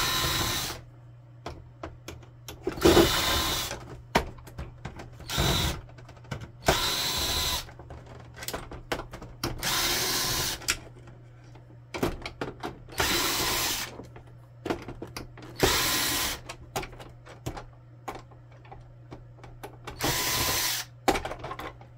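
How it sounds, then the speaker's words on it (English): A power screwdriver backs screws out of an HP ENVY 5055 printer during disassembly: repeated short whirring bursts with ratcheting clicks and pauses between them, close up and with no talking. "we're gonna remove 6 more screws all around"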